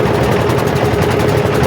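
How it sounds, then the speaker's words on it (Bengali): An engine boat running on the Buriganga river, its motor giving a loud, close, steady low drone and rumble with no break and no talking. "নৌকা চলছে বুড়িগঙ্গার নদীর উপরে।"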